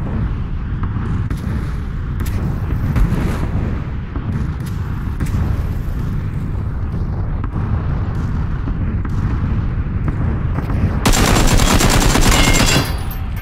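Gunfire rattles continuously in a first-person shooter game, dense bursts of shots with a louder, brighter volley near the end and almost no talking.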